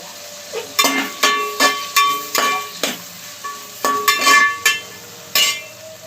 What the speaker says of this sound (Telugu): ఆనియన్స్ వేగిపోయాయి టమాటా వేసుకుందాం ఇప్పుడు ఒక టమాటా అండి ఇట్లా స్లైసెస్లా కట్ చేశాను